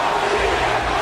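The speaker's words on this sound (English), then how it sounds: "this entire crowd here tonight is saying one name, and one name only" Arena crowd in the WWE 2K23 wrestling game chanting CM Punk's name, a dense, steady roar filling the hall without a break for the whole moment.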